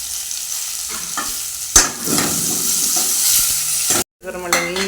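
Tomatoes added to a hot pan for crab soup sizzle steadily while a spoon stirs and scrapes through them, with a brief gap near the end before the frying resumes.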